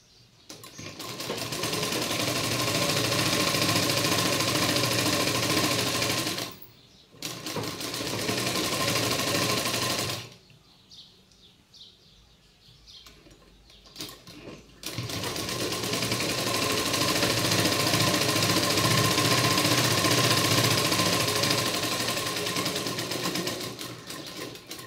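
A sewing machine stitches a boat neck blouse in long, loud continuous runs, broken by two short pauses where the motor stops and fabric is adjusted, with no talking.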